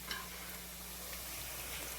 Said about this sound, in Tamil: இப்போது வெங்காயம் கொஞ்சம் நல்லா வதங்கட்டும்.